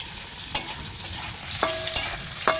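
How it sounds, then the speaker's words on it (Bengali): Pointed gourd and potato pieces frying in oil in a small pan, a steady soft sizzle broken by a few sharp scrapes and clatters of a spatula stirring, close and fairly quiet. "এই জন্য পটলটা আমি ভেজে নিচ্ছি, আলুটা ভেজে নিচ্ছি"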